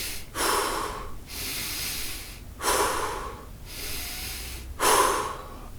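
A person breathes intensely and deeply, three long loud inhales with breathy exhales between, close and alone with no talk.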